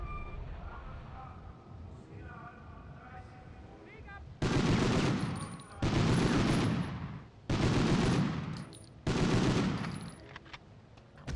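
Machine-gun fire from the Medal of Honor video game: four loud, sustained bursts of rapid automatic fire, each about a second long with short gaps between them, following quieter game ambience.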